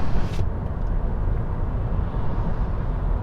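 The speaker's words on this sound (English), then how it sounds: "I'll open the window on the driver's side, and here's another car coming" Road noise roars through the open driver's window of a 2020 Honda Jazz (Fit) hybrid on a ring road, a steady loud broadband rush as another car passes.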